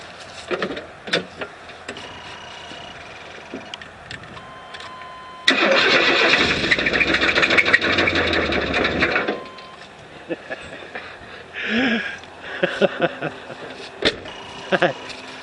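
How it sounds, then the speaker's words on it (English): A car engine cranks and catches with a loud burst, then runs with a rough idle and settles. Scattered knocks and brief talk come before and after. "As soon as this car passes, I'll jump in and start it up."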